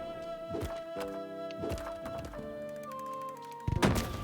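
Rotwood video game weapon fires a quick volley, a series of sharp thunks and pops set against a sustained tonal music bed, ending in a louder cluster of impacts.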